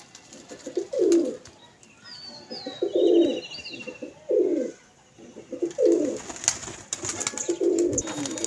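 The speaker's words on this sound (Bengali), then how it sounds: "এই হলো পায়রাটি।" A pigeon gives repeated low, throaty coos in regular bursts about every one to two seconds, close and clear against a quiet background.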